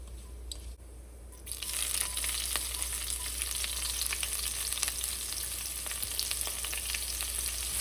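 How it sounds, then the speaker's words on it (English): Extra virgin olive oil with fennel seed and red pepper flakes sizzles in a Dutch oven over medium-high heat: after a quieter first second and a half, a bright, steady hiss swells up and holds, close, crackling with tiny pops and no speech. "Into my Dutch oven, I put extra virgin olive oil, some fennel seed, a sprinkle of red pepper flake, and on medium-high heat, I've given that a stir"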